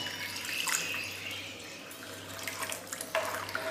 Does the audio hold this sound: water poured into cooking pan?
yes